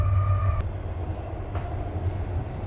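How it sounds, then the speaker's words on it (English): A train rumbles past at close range, a loud steady low roar with a brief high squeal early on, continuing throughout. "There's a train coming, so it might get loud for a second."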